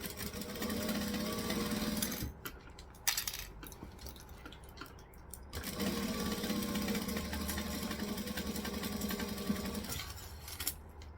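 Sewing machine stitching forward and then back, two runs of steady motor whir separated by a short pause with clicks, close and clear.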